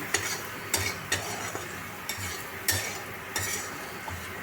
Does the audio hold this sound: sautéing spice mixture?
yes